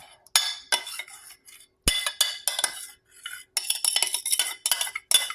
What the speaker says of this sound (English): I can grab a spoon, I'm going to put the squash in here.